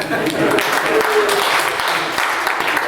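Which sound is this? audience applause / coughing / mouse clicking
audience applause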